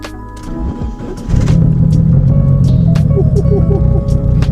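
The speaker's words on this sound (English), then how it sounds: "Start up the car." A turbocharged Proton Satria 4G93 SOHC engine cranks and catches, then settles into a loud, steady idle with a low rumble and faint mechanical whine.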